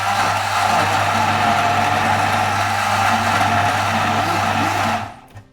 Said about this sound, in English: all the ones that I just pulled the seeds out of have gone inside of my little stick mix, my little blender thingy